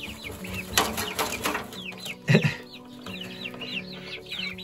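A hen in a backyard chicken coop clucks in short, soft bursts, with a louder low cluck near the middle and faint bird chirps and rustling around it.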